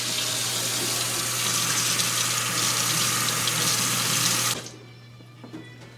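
Tap water runs steadily into a sink as wild leeks (ramps) are rinsed of dirt, a loud even gush lasting several seconds before it cuts off abruptly, leaving quiet room tone with faint clinks.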